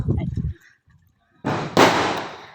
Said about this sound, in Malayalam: ഇവിടെ പടക്ക പൊട്ടുന്നുണ്ട് അടുത്ത്